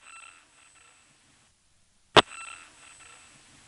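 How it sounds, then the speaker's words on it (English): A single sharp click on a faint, hissing 1977 telephone line with step-by-step switching, followed by a brief ringing tone that lingers under the line noise. "the loud click makes it go gnging, like that"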